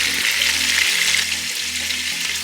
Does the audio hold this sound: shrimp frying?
yes